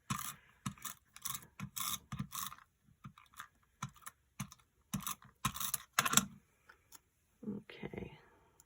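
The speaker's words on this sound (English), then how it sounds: "So I'm going to just use my tape runner." A handheld tape runner laying adhesive onto cardstock during stamping and card-making, heard as short repeated dry scraping strokes in close, quiet bursts with pauses between, and a brief soft voice near the end.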